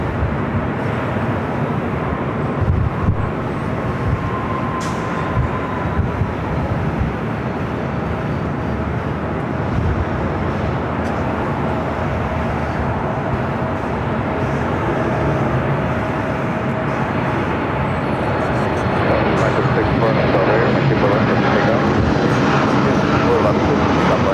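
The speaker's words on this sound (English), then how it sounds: "I just saw a Frontier A320 on its way in" A Frontier Airbus A320 arriving at LAX, a steady broad jet roar sustained throughout and swelling slightly toward the end, with people talking over it.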